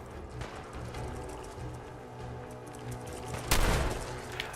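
Rapid bursts of gunfire in a video game, dense and loud, with a sharper louder burst near the end.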